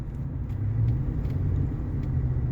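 GMC Sierra 2500HD pickup on the move, a heavy low engine rumble from inside the cab that swells slightly partway through, steady and fairly loud.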